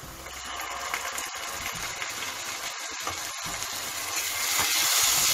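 Onions fry in a pan for a restaurant-style egg and spinach curry as ginger garlic paste goes in, giving a steady, close sizzle and hiss that swells louder toward the end, with no talking.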